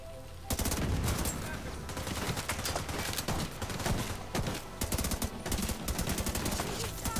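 Rapid gunfire rattles almost continuously in The Division 2, loud bursts of automatic shots packed tightly together, with occasional speech under the shooting.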